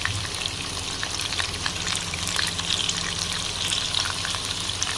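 Chicken frying in a pan for tawa kadhai, a continuous loud sizzle with faint stirring scrapes, close and steady throughout, with no voices.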